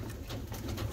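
Pigeons coo softly and steadily inside a coop of show breeds with feathered feet. The coos come in repeated low pulses over a dense, continuous murmur of birds, and no one speaks.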